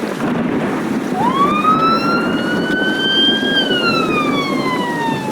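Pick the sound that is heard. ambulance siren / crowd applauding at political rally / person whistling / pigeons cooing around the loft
ambulance siren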